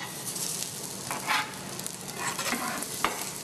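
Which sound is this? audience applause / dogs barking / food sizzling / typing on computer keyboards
food sizzling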